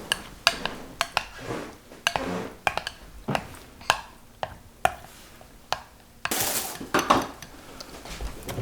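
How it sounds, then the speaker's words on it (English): A spoon stirring a chocolate, butter and vanilla mixture for a s'mores pie clinks and taps against the bowl in an irregular series of sharp knocks, close and clear with no talking. "If it's easier, you can do it with a spoon. All right. Okay. Just keep stirring."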